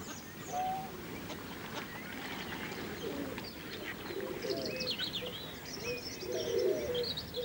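Outdoor bird calls with soft cooing from doves and occasional honking from ducks, layered over a faint background hum, moderately distant.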